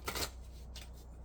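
Chakra cards are shuffled in a quick riffle, a soft papery burst followed by a second, fainter flutter, close and quiet, with no talking.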